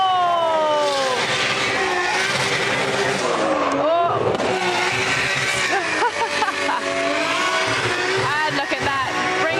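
A drift car at the Goodwood Festival of Speed Driftkhana 2021 screams up the hill, tires squealing and engine revving hard in rising and falling bursts, loud and close, with a commentator talking over it.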